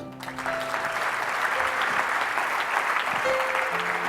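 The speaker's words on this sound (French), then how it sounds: "Quelqu'un acclame Jésus." A church congregation applauds and acclaims Jesus, with sustained clapping and cheering from a crowd filling the room at fairly loud level, alongside a few raised voices.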